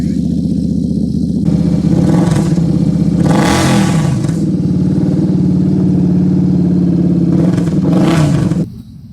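A budget bobber motorcycle engine is heard close and loud, idling with a steady rumble and revved hard in several surges before it cuts off near the end.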